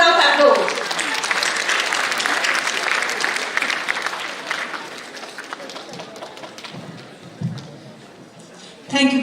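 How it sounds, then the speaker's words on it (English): An audience at an international medical conference applauds a speaker coming to the stage, dense clapping that is loud at first and gradually thins and fades, ending with a brief burst of sound. "Please join me in welcoming Dr. Kanchan Sharma to the stage. Let's give a big round of applause"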